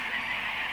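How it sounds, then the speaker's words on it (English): Birds honk loudly in a brief goose-like burst as a flock swarms across a mountainside, the calls close and continuous with no talk over them. "the noise of the birds that swarmed across the mountain above us"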